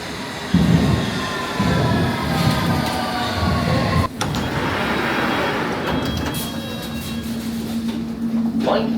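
Train at London Paddington station, a steady loud rumble with a thud and hiss partway through, like doors or brakes, then a sustained tone near the end over station ambience.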